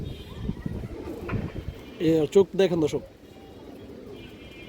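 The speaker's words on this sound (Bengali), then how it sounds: "পুরো ফ্রেশ আছে দর্শক কবুতর।" Gorra pigeons in a pair, fresh and healthy, give a short burst of low cooing in the middle, close by, while someone talks over them.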